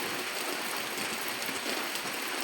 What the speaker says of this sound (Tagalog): Lakas ang ulan dito makalabas.